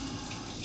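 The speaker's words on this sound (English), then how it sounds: "Actually, I'm gonna rinse this" Water runs steadily from a kitchen tap as an item is rinsed under it while making muffins, a continuous close gushing splash with no pauses.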